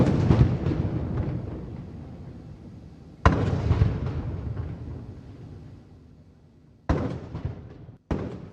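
Cannon gun salute fired in Male, Maldives, for PM Modi: four loud booming blasts, each a sharp crack followed by a long rolling decay, spaced unevenly with the last two coming close together.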